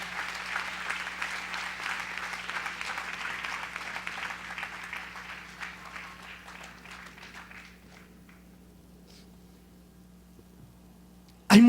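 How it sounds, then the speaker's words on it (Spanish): A church congregation applauds during a worship service, a steady wash of clapping that thins and fades out over several seconds, ending in near quiet with a low hum. "Dele un aplauso al Rey en esta hermosa y linda oportunidad"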